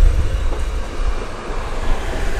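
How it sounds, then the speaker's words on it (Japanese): The Soya express train pulls out of Otoineppu station in Hokkaido with a loud, steady low rumble and a broad rolling wash of wheels and engine close by, with no talk. "風子宗谷号が動く姿を見ることができましたというかちょうど出ていったんですね"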